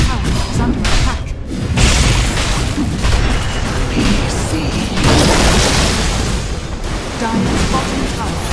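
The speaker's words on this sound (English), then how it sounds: "Dire's bottom tower has fallen." A Dota 2 tower collapsing in a sustained, loud roar of rumbling crashes and debris noise lasting several seconds with no clear pauses.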